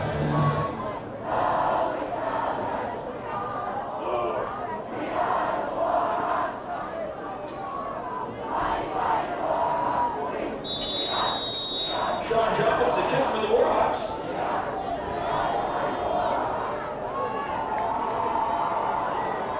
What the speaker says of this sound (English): Nice job by the Gators leading the student section in a spirited cheer